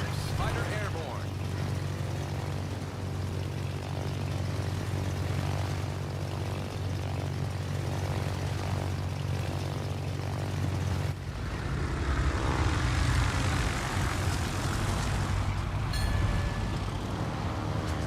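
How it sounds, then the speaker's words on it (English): A fighter aircraft takes off in a naval combat video game, a steady low propeller drone giving way to a louder rushing roar partway through. "Fighter airborne."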